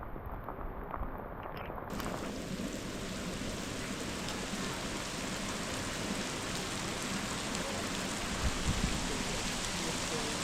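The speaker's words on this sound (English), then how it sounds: "this rain is coming down" Steady rain pours down on a hike near Waterton, a dense, even hiss of falling drops that continues close and uninterrupted throughout.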